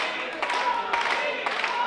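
A live indie wrestling crowd claps and rallies in a dense, steady patter of hands, with rhythmic bursts swelling every half second or so, while a commentator talks over it.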